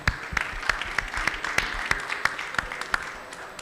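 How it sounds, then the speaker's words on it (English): A seated audience at a COP27 health pavilion panel session claps for the panelists, a dense, close burst of many hands applauding steadily throughout, no voices over it. "Can we clap hands for that good job they did?"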